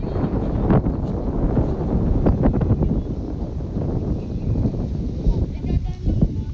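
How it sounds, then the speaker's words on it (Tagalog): Strong wind buffets the microphone in an open outdoor spot where kites are flying, with gusty low roaring that rises and falls and bursts of chatter in the background. "Oh, ang lakas ng hangin."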